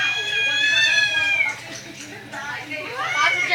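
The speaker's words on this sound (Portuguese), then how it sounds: "Gato chato." A house cat yowls in drawn-out, harmonic meows, a long cry in the first second and a half, then a rising second meow near the end, close and fairly loud with faint household background.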